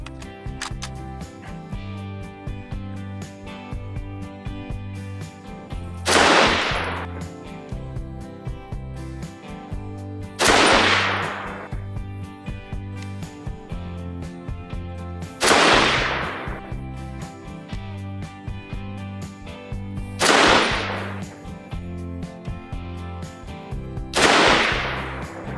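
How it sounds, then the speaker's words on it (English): A Springfield Armory M1A Scout Squad .308 rifle firing 178 grain AMAX rounds: five sharp, loud reports spaced roughly four to five seconds apart over a steady low background hum, with no talk. "First up is going to be the 178 grain AMAX load from Freedom Munitions, and fire 5-shot groups"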